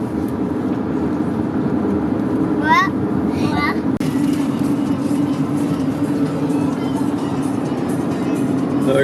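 A car cruises along a freeway through the Mojave National Preserve desert in California, a steady low road and engine drone heard from inside, with brief voices partway through.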